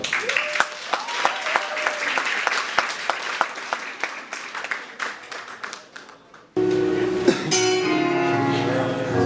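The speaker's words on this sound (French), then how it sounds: "On devrait les applaudir." Audience applause with distinct separate claps thinning out over several seconds, followed by a sudden switch to music-like tonal sound.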